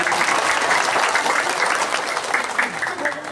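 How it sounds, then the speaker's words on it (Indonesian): A crowd at an Islamic religious gathering welcoming the Islamic New Year claps steadily in a dense, even burst of applause that carries on without pause, with no voices breaking through. "tepuk tangan dulu teman-teman."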